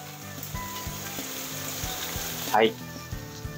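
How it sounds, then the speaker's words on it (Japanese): Bitter gourd stir-fried with onion and carrot in a pan, a steady close sizzle with scattered clinks and scraping stirs, a brief louder splash of sizzle near the end, a short spoken word at the start. "水切ったらさっきの玉ねぎ、人参と一緒に炒めていきます。"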